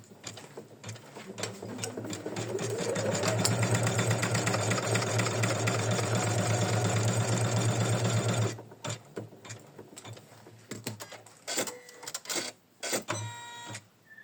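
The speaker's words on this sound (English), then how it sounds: "Now we stitch another step to attach our leaf." A sewing machine stitches an autumn leaf onto fabric, its motor humming and rising steadily for about eight seconds before stopping, followed by scattered clicks and handling noises, close and clear.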